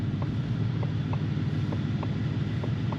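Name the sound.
Ford Mustang Shelby GT500 turn signal ticking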